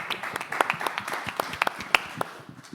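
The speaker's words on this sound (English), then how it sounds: "You can clap." Audience applause at a network API platforms industry panel, a short burst of scattered hand claps from a smallish crowd, moderately close, with no voices over it.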